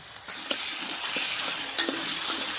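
Chicken ghugni sizzles in a pan as it is stirred with salt and turmeric, a constant frying hiss broken by a few sharp spatula scrapes and clinks against the pan.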